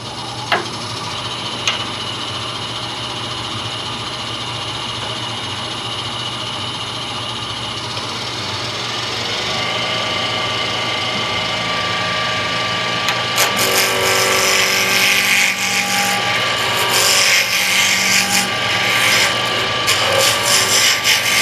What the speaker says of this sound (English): this is acrylic is just like doing anything else, and I usually start with a roughing gouge